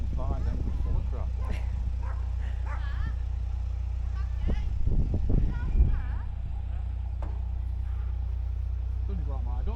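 A pet dog barks and yips close by amid loud, steady engine or road rumble, with people talking over it.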